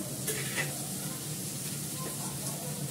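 Potatoes with spices frying and being stirred in a pan for a Bengali dish, a steady close sizzle with faint scraping, quiet and continuous without talk.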